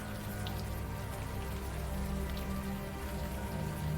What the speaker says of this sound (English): the warm rain is coming down